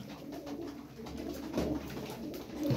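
Pigeons kept as tumbler pigeons coo softly in a steady low murmur, several birds together close by, with no talk over them.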